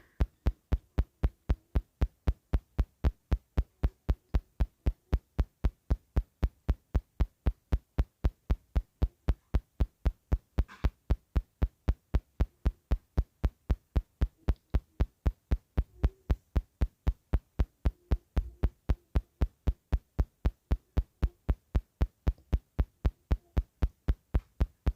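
A sewing machine stitches a continuous seam joining strips of printed kurti fabric, giving an even, mechanical thumping beat that runs steadily throughout, close and alone.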